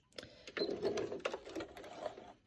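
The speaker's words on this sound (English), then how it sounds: "So we're able to back stitch along that whole entire line, so it kind of secures it in" A sewing machine back stitches along a seam while sewing an adventure hood, giving a steady, close mechanical whir with rapid needle clatter that runs almost continuously.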